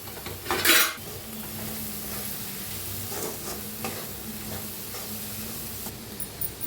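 Moth beans and salt being stirred into a vegetable dish in a pan, with a spoon scraping and clinking against the metal over a steady low sizzle, plus a louder clatter near the start.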